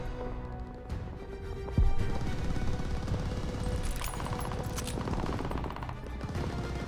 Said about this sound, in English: We are getting shot from above!